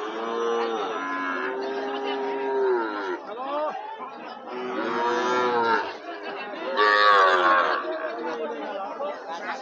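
Sahiwal cattle at a crowded border cattle market low in long, drawn-out moos, several overlapping calls rising and falling close by, with people chattering in the background.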